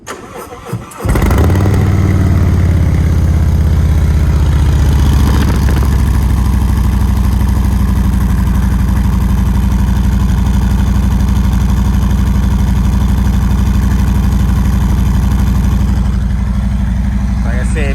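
A stock 2020 Harley-Davidson Road Glide motorcycle with a Milwaukee-Eight engine cranks and fires after sitting unused for a while, then settles into a loud, steady, close-up idle with a deep, even throb.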